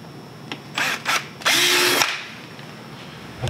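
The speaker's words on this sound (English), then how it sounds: "Just gonna drill out nice and easy through plastic." Several short bursts from a power drill with a 3/16 bit boring through the plastic of a Ski-Doo Gen 4 snowmobile while a skid plate is fitted, ending in a longer, louder whine, close and without talk.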